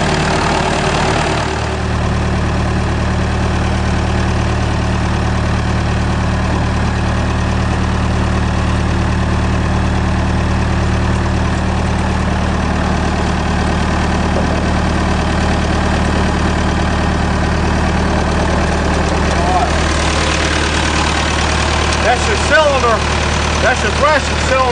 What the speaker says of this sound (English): That's a 70 horse Perkins